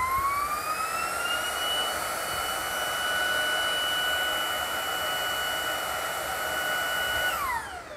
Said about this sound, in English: When it's running, air comes out of the battery.